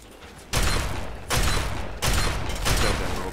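Gunfire from hostile enemies in Fallout 3 breaks out in three loud, dense bursts, each a sustained crackling roar that starts abruptly and keeps on with little break between, over a quieter rumbling game backdrop.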